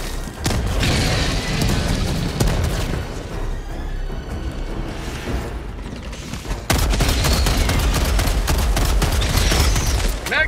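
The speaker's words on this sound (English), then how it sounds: "Requesting orbital strike! throwing grenade!" In the Helldivers 2 video game, an orbital strike and grenades detonate amid dense combat noise, with heavy booms and rapid gunfire rolling continuously at high volume.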